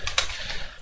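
Quick keystrokes on a computer keyboard: a short burst of a few close, crisp clicks in quiet surroundings.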